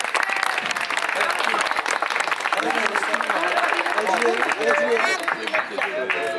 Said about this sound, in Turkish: Herkes alkışlıyor.